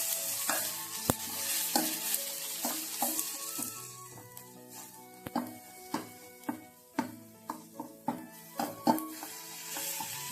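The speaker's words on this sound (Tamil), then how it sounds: "சேர்த்துட்டு லேசாக வதக்கி விட்ருங்க." Ground masala paste of spices including cardamom is sautéed in a hot pan, a steady sizzle broken by repeated close clinks and scrapes of stirring that grow sharper and more frequent.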